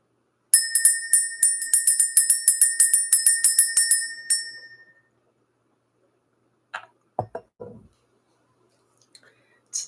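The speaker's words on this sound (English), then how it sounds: "We're going to ring this bell." A small bell or chime is rung repeatedly in quick metallic strikes for about four seconds, bright and ringing, then fades out; a few soft clicks and faint sounds follow in quiet.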